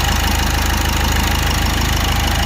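A 2018 Ford EcoSport Titanium with about 82,000 km idles with its bonnet open, giving a steady, loud low rumble with an even mechanical pulse that holds constant throughout and has no talk over it.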